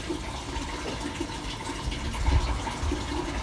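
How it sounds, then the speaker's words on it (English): A tap at a campsite washing-up trough sink runs warm water in a steady splashing gush, continuous and fairly close, with no voices over it. "the tap that's running there is warm water, so you've got hot and cold water"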